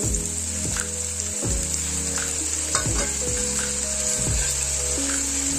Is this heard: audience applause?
no